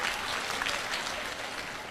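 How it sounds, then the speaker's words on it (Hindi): A crowd at a lively spiritual gathering claps steadily, a dense and fairly close patter of many hands that continues without pause. "आप लोग ताली क्यों बजा रहे हैं?"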